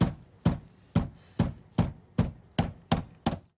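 Knocking on a door: eight firm, evenly spaced raps, each clear and close, sounding with a steady, insistent rhythm and no voices.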